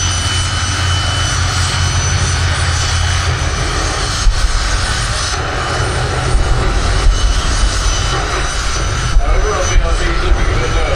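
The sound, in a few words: jet dragsters racing side by side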